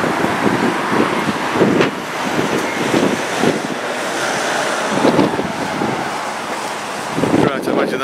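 Wind gusting along a town street in March buffets the microphone, giving a steady rumbling roar with louder surges throughout, while a person talks intermittently over it.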